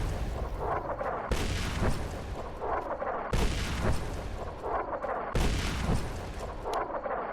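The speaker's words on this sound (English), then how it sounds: "they're shooting artillery at you" Artillery fire in the video game Fallout New Vegas, three heavy booming impacts roughly two seconds apart, each a loud sudden blast trailing off into rumbling decay.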